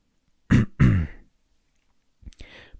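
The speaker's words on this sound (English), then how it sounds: "Apologies for the coughing." Two harsh, throaty coughs close by, then silence and a few quieter rough sounds near the end.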